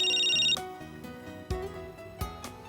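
A phone rings in a home over soft background music, one short electronic trill followed by quieter chiming tones.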